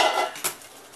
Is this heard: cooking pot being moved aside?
yes